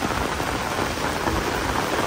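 Heavy rain pours at a graveside, a loud, unbroken hiss of dense downpour striking the ground and surfaces close by, with no pauses or voices.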